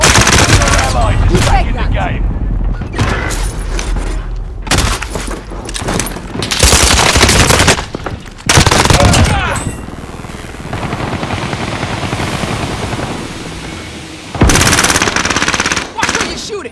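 Rapid bursts of automatic gunfire and single shots in the Call of Duty Warzone Rebirth Resurgence battle royale, loud and close, with short pauses between volleys, a helicopter-like drone, and game voice lines mixed in.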